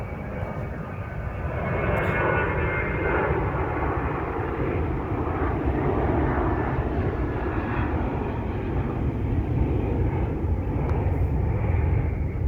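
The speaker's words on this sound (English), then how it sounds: "Sorry for all the airplanes in my videos." A propeller or jet airplane drones overhead, a continuous low roar that swells and holds steady for several seconds, fairly loud, with no talking.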